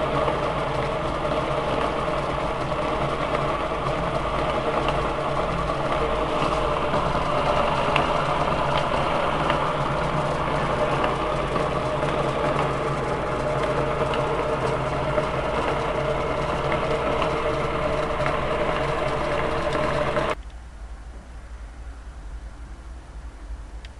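Homemade torus electric motor with 18 coils running at 48 volts gives a steady, even whirring hum that holds for about twenty seconds before cutting off abruptly, leaving faint background noise.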